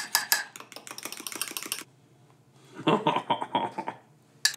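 A spoon stirs a microwaved pudding mixture in a mug, making quick clinking and scraping bursts in two close, busy runs with a brief pause between them.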